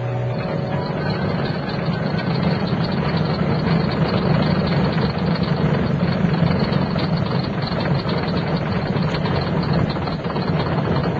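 A bus motor acting up on a little-used road at night, a steady loud low rumbling drone that runs unbroken throughout, close and alone.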